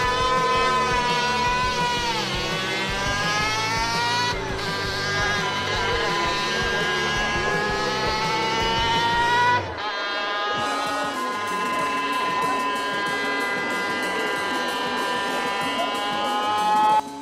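High-revving Suzuki RK67 50cc racing motorcycle two-stroke engine, a loud continuous buzzing whine that climbs and shifts pitch through gear changes, with a brief dip near the middle before screaming on again.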